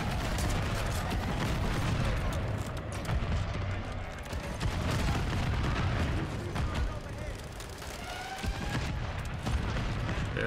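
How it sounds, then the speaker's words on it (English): Heavy shotgun blasts from the Reclaimer 18 in Call of Duty: Modern Warfare III, repeated booming shots mixed with explosions and dense game action, with a player's voice talking underneath throughout. "Why are you shooting two shots?"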